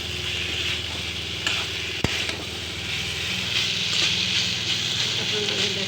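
Fish fries in a pan for an Assamese fish curry with cauliflower and tomato, a steady, fairly loud hiss and crackle with one sharp click partway through.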